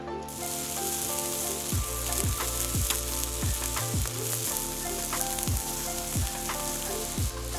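Steaks sizzling on a hot grill at a braai, a dense steady frying hiss close up with repeated sharp scraping clicks of utensils moving the meat.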